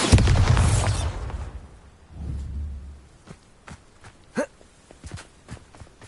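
A Bombarda explosion curse in the video game Hogwarts Legacy: a loud burst with a roaring tail that fades, a second low rumble, then a series of short, sharp pops and clicks spread apart.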